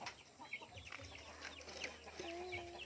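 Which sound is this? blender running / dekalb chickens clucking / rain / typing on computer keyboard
dekalb chickens clucking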